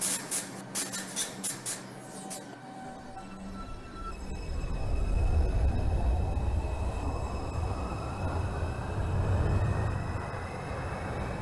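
A New York Bronx-bound 4 express subway train in the OpenBVE train simulator game gives several rhythmic rail clicks, then a steadily rising roar as the train accelerates. The noise grows loud and continuous with no talk.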